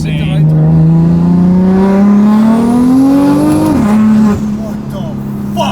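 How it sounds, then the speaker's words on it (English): A loud car engine revs hard, its pitch climbing steadily, then drops sharply as it downshifts before settling into a lower, steady drone. "the downshifts on this car sound insane"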